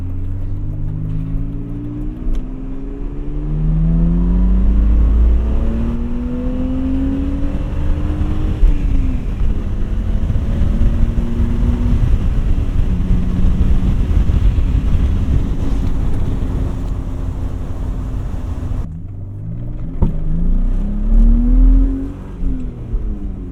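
Cabin sound of a cheap BMW E46 on the move: engine drone rises and falls through several gear changes with clear rising pitch sweeps, plus wind and road noise, close and loud, with no talking.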